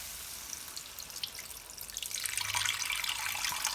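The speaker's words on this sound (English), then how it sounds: "At this point, I'm gonna add in some water." Water poured into cooked masala for a fish curry, a soft rushing splash that builds and brightens as the stream hits the pan, fairly quiet, with no talk.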